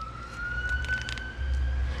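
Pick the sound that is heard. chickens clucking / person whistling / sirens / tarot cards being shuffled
sirens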